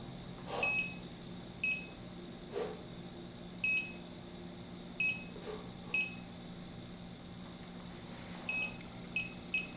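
A Bacharach Informant 2 refrigerant leak detector set for R410a gives short, bright electronic beeps in an irregular pattern, roughly nine chirps over ten seconds, with steady low hum beneath.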